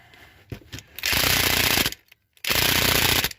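A Ryobi cordless impact tool struggling against a tight fastener on a 2002 PT Cruiser, loud rapid hammering rattle in two short bursts separated by a brief pause, close to the listener.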